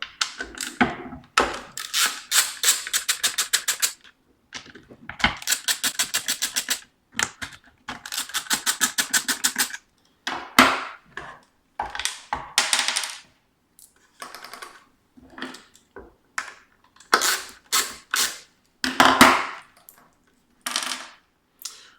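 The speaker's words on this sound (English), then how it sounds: "We're going to do that by taking our ratchet with our T30 socket and removing these three screws that hold the two halves together." A ratchet with a T30 socket clicks rapidly in repeated bursts while three screws come out of the rear fender halves on a 2018 KTM Duke 790. The clicking is close and loud, with pauses and a few thunks between the runs.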